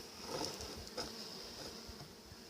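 Honey bees buzz around a weak hive infested with wax moth larvae, a faint continuous hum with soft rustling and small taps close by.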